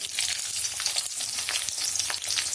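Sliced onions frying in oil for an aloo kurma (potato curry), a steady close crackling sizzle with soft scraping as they are stirred around the pan, no voices.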